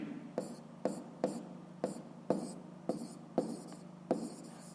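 A pen writes on paper up close in a quiet room, producing a series of about nine short scratchy strokes at a steady, even pace with no voices over them.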